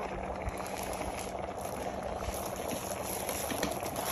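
Water rolls at a vigorous boil inside an electric boiler, a dense, continuous bubbling and churning that stays steady and close throughout.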